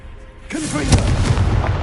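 In the video game Hogwarts Legacy, the Confringo fire spell goes off as a loud, close explosive blast with booming, crackling bursts. A short voice is heard at the start, then the rumbling blast carries on to the end.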